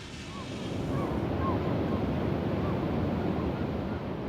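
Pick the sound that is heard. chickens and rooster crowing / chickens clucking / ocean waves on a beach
ocean waves on a beach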